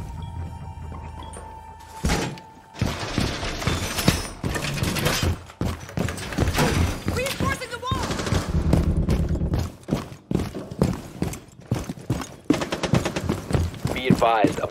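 Rapid gunfire bursts in Rainbow Six Siege during a quick match, a player shooting a cheating teammate; sharp loud shots and clatter repeat densely throughout, mixed with game effects and excited talk.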